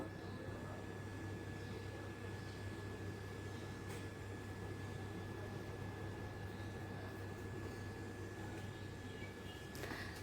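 Mangoes blended together into a paste for mango malpua, a steady continuous motor whir with a low hum that runs unbroken and evenly loud throughout.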